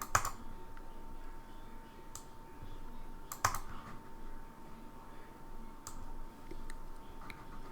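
Mouse clicks while connecting wires in Multisim circuit software: scattered sharp clicks, a few louder ones spaced seconds apart, with faint keyboard-like ticking under a steady low hum, close and quiet, no talking.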